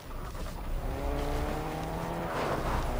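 Car crash in Fortnite, with a revving engine and a scraping skid under a steady mid-volume drone, no talk.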